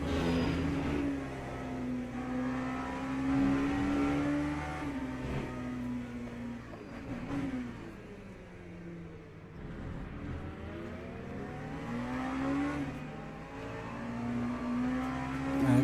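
LMP3 race cars in Le Mans Ultimate accelerate through several gears, engines climbing in pitch then dropping at each shift, loud and steady, with the revs rising and falling over the whole stretch.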